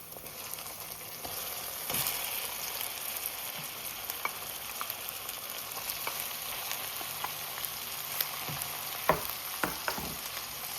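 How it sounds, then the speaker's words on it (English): Onions and aromatics frying and sizzling in a pot before corned beef goes in, a steady close hiss of hot oil with occasional sharp crackles and pops and scraping stirs. "So we just fry up this little more before we add the corned beef to the pot."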